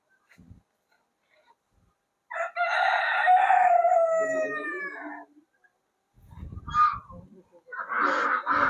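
A rooster gives one long, loud, clear crow among chickens at the Krishi Vigyan Kendra farm in Jagatsinghpur, after a quiet start, followed by shorter bursts of clucking and other sounds nearby.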